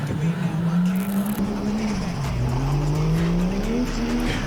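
A Nissan S13 with a 1JZ engine and big turbo roars loudly and continuously, its pitch dipping and then climbing again as it revs, with a rough, racing-car growl throughout.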